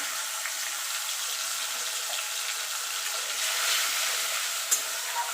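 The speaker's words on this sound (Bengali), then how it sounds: "দিয়ে একটু মিনিট খানিক কষিয়ে নেবো যতক্ষণ আদার কাঁচা গন্ধটা না চলে যাওয়া পর্যন্ত" Green chili, tomato and ginger paste sautéing in a pan for a vegetarian jackfruit curry, giving a steady close sizzle with a faint stirring scrape near the end and no talking.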